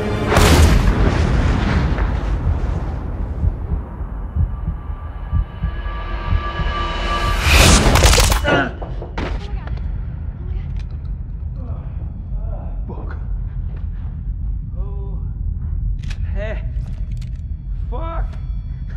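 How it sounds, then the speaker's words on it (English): A shotgun blast in an apartment shootout from the 2015 film Mr Right: a loud, close boom opens, followed by a rushing whoosh and another heavy burst, then quieter scene noise. "Was that even a shotgun?"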